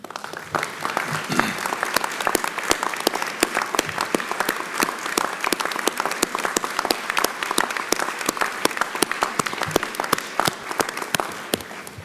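Sustained applause from a large crowd, dense steady clapping that continues evenly throughout without pause.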